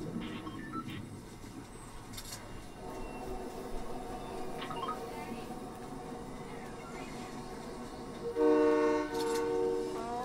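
A train rumbles past outdoors as a storm approaches, with a steady rolling drone and tonal horn blasts, and a louder, closer horn sounds near the end.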